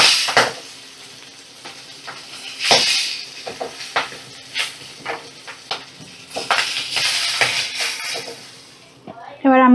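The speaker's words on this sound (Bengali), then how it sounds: "মাছগুলো ফাটবে, একটু সাবধানেই ভাজতে হবে।" Catfish (magur) fry in hot, spattering oil in a pan, giving bursts of crackling sizzle punctuated by stirring and utensil clinks against the pan.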